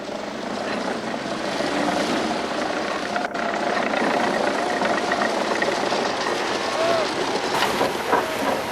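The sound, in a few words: tractor driving over sea ice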